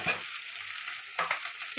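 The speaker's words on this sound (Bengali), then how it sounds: "এটা ভালো করে কষাতে থাকবো" Ginger-garlic paste with turmeric, ground dried chilli and cumin frying in a pan, a soft steady sizzle with two brief louder bursts of stirring, close and alone.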